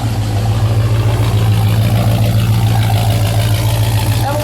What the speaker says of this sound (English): Let me listen to it idle.